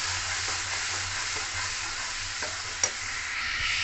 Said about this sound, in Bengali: এই যে মশলাটা গুলে রেখেছিলাম তেলের মধ্যে দিয়ে দেবো। এই মশলাটা ভালো করে তেল ছাড়া বলতে কষে নেব।